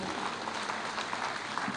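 Audience applause at a national campaign event against child marriage and teenage pregnancy, a dense steady wash of clapping from a crowd under a tent, continuous for the whole moment.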